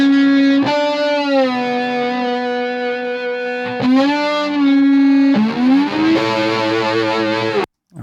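An electric guitar, distorted and effects-laden, widened with a 15-millisecond Haas delay, sustains long chords that shift pitch a few times, loud and close with a smeared stereo shimmer, ending in an abrupt cutoff.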